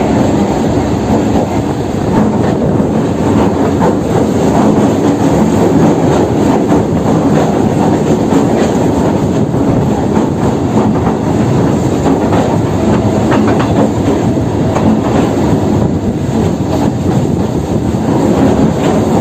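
A Kolkata Circular Rail local train runs along a curve near Hastings Road, giving a loud continuous rumble with rhythmic clickety-clack from the wheels and occasional faint squeal, heard from on board with no talking.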